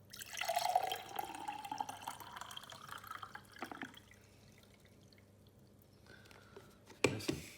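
Almond soaking water is tipped out, dribbling and splashing in a quiet stream that tapers into scattered drips, ending in a sharper splash near the close.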